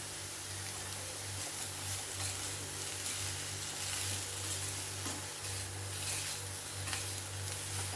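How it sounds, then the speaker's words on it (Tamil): Boiled cauliflower stirred into sizzling chili and coriander powder masala in a pan, a steady close frying hiss with soft scraping stirs, continuous and fairly loud with no voices. "நம்ம இப்போ வேக வச்ச காலிஃப்ளவரை சேர்த்துக்கலாம் பரட்டி விட்டுடலாம்"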